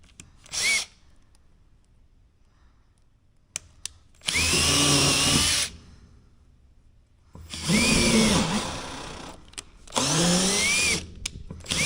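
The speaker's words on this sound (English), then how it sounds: "I'm drilling through some steel." A power drill whines through a steel brace in three long loud bursts separated by quiet pauses, the pitch rising and bending as it bites, with short blips between.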